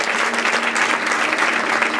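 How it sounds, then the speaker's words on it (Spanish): A church congregation applauds together, a dense, steady wash of many hands clapping that fills the whole brief moment without pause. "Chillas un aplauso a la presencia de Dios."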